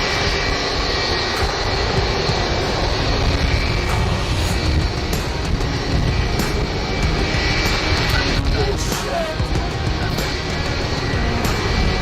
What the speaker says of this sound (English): This Airbus A330 hit a light pole while taxiing.